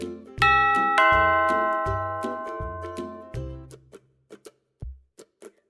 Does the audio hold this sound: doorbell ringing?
yes